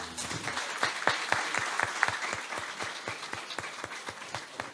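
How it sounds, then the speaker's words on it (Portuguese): A church congregation claps together during a worship service, an even, rhythmic beat of many hands at a steady tempo, moderately soft and sustained. "Dê uma grande salva de palmas para Jesus."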